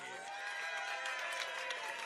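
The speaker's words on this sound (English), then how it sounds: "Oh, is this the Brazilian cheering squad? Brazilians everywhere." A Brazilian cheering squad at a hot dog eating contest weigh-in in New York cheers and applauds, a steady, fairly faint wash of crowd noise with scattered claps.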